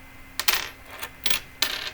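US quarters from a commemorative collection clink and jingle as they are dumped out, three distinct metallic rattling bursts close by, with no talking.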